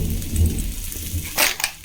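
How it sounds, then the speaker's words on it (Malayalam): Rain falls in a steady wash, with a louder gusty burst of noise near the end; no voices. "നമുക്കിന്ന് മഴ കിട്ടി കുറേ നാളുകൾക്ക് ശേഷം."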